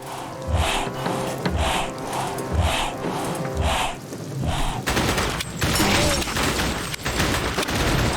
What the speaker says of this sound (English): I'm shooting his armor.